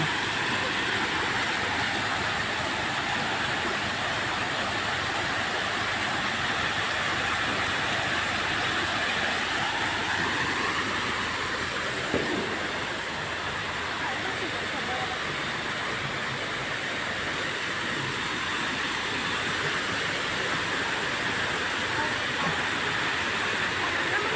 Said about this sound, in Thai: ที่อยู่ด้านหลังมุมนี้ก็จะเป็นน้ำตกนะครับ